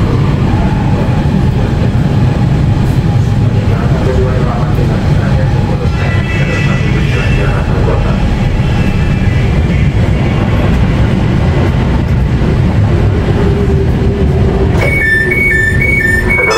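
Chinese-made KRL commuter train at Jayakarta station on the Jakarta Kota–Bogor line, a steady loud rumble of wheels and carriage noise with rail clatter, a chime near the end, and voices and announcements faintly underneath.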